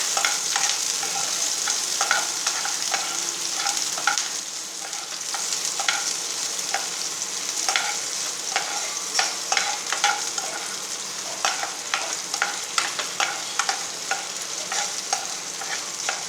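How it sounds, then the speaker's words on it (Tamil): Chillies fry in hot oil for a Tamil-style chicken curry, a steady close sizzle broken by frequent scraping stirs of a spoon against the pan, with no talking. "கொஞ்சம் வதங்குறது வரைக்கும் நல்லா ஃப்ரை பண்ணிக்கிறணும்."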